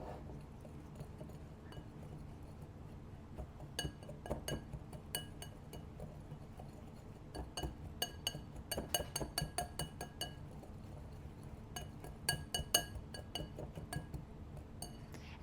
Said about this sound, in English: Whisk these together.